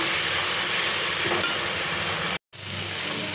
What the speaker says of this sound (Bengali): খুব ভালো করে কষিয়ে নিই